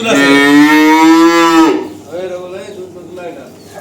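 A dairy cow lets out one loud, long moo close by, followed by softer low grunting and rustling.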